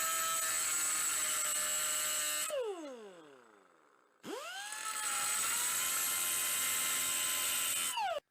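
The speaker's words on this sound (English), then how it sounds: "I'm just going to use my die grinder" Die grinder cutting a tapered shaft on a generator engine: a steady high-pitched whine that winds down in pitch, goes nearly quiet, then spins back up and holds loud until it cuts off abruptly.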